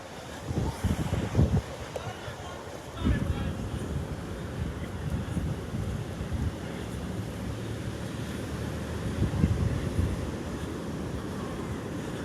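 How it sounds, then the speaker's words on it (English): Ocean surf and gusting wind as Hurricane Elsa passes North Naples, Florida at low tide: a continuous roar of waves with heavy wind buffeting the microphone and a few louder surges. "Yeah, it's some pretty good waves."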